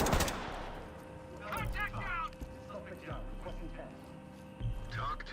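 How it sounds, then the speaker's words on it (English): Enemy gunfire in a military shooter video game crackles in bursts of shots at moderate distance, mixed with other game sounds and under people talking. "I didn't know they could even shoot us from up there."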